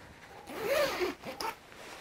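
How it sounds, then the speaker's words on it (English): The zipper on the bug net of a Snugpak Jungle sleeping bag is pulled in one quick close rasping run lasting about a second, with a brief second tug at the end. "and let's zip that up."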